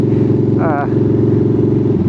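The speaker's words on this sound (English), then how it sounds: "I could be breaking the law right now with my exhaust" Loud, deep exhaust rumble from a vehicle idling and burbling steadily up close, a constant throaty pulse with a brief higher whine partway through.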